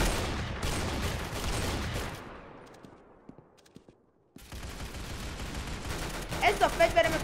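Rapid gunfire in the Roblox-style shooter Arsenal, loud bursts of shots that fade into near silence midway, then resume with sharp close reports toward the end.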